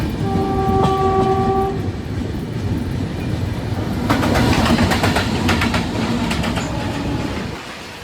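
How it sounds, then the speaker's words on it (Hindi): The 12295 Sanghmitra Express, an Indian passenger train running between Balharshah and Prayagraj, sounds a loud horn at the start, followed by steady rolling rumble and wheel clatter on the rails. "बीच से गुजरती हुई हमारी ट्रेन"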